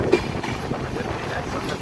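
A train rumbles steadily past near Rajkot station by a rail yard, a loud continuous roll with faint wheel clatter and wind buffeting the microphone.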